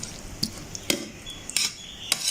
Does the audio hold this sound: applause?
no